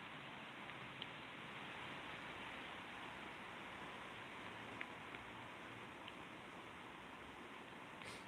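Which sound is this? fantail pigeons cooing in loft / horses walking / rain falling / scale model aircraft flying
rain falling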